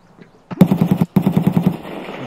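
Gunfire in the shooter Escape from Tarkov: two quick bursts of evenly spaced automatic shots, loud and close, separated by a brief gap, with no voices.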